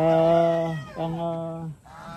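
Geese penned alongside ducks and turkeys give two loud, drawn-out nasal honks close by, each a sustained harmonic call, followed by a shorter third call.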